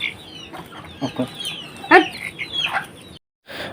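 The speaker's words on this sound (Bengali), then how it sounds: "আজকে দেখতে পাচ্ছেন যে এই মুরগিগুলো নিয়ে যাইতেছি হাটে" Chickens cluck and squawk in short, uneven bursts while being carried to market, with one sharper call standing out near the middle and the calls stopping briefly before resuming.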